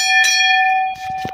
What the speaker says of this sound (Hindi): घंटी बजाते, मुझे घंटी बजाना बहुत पसंद है।